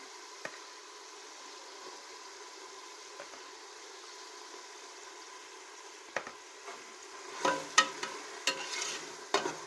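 Biryani ingredients with coriander and curd stirred in a pot, a steady soft wet churn with a few light clinks, then louder squishy scrapes and knocks of the spoon toward the end, close by.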